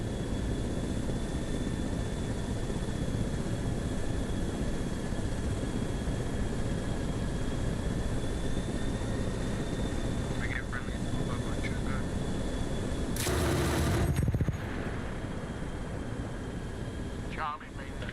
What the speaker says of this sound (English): I'm above him in a helicopter